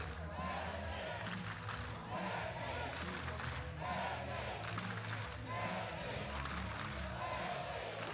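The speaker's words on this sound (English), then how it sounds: "Crowd trying to lift the Estonian players." Spectators at a FIFA beach soccer EBSL Superfinal between Estonia and Romania cheer and chant for the Estonian players, a loud sustained crowd roar with rising shouts, a commentator talking over it.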